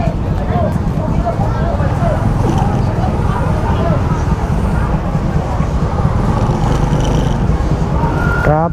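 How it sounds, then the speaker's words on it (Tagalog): Dense, steady road traffic with a continuous low rumble of car and truck engines that stays loud throughout, while people talk over it. "Grabe yung traffic dito"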